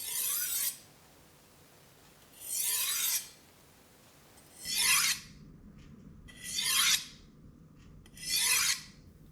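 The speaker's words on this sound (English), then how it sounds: "10 to 50 strokes depending on how much sharpening your knife needs" A kitchen knife is drawn along a sharpener in five even, raspy strokes, separated by short pauses, close and clear with no talking.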